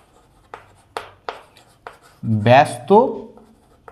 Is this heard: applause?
no